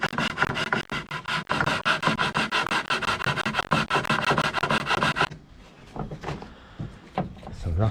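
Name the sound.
sanding a wooden kayak paddle with rough sandpaper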